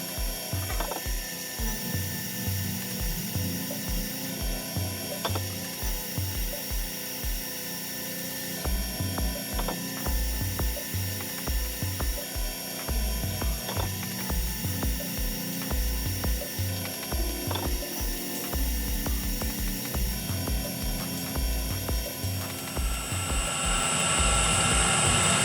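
A gem faceting machine grinds mirror facets onto a stone with a steady mechanical whir and a rhythmic ticking, pulsing beat that runs without pause and swells slightly louder at the end.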